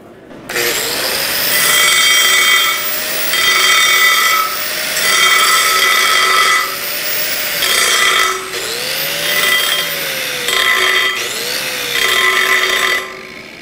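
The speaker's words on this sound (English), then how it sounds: "Now we're gonna wanna take our grinding wheel and we're gonna wanna feather those tacks." Grinding wheel feathering MIG weld tacks on steel, a loud close whine rising and easing in about six long passes with short breaks between them, the pitch bending as pressure changes.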